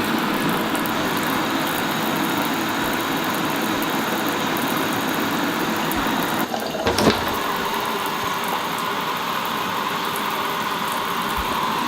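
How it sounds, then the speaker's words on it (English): Shower water sprays steadily onto a Simms Day Creek Z fishing backpack, a dense continuous hiss that runs unbroken, with a brief knock or rustle partway through. "we're throwing it in the shower real quick"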